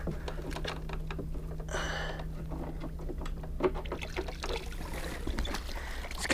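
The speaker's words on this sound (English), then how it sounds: "Let's drain out a little water." Water being drained out of a kayak fitted with a trolling motor, a steady low trickle and splash running continuously at moderate level, with no talking.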